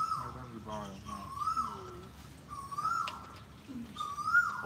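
Birds call repeatedly near an outdoor pool, a series of clear, rising and falling whistled notes spaced every second or so, fairly close, with low background murmur.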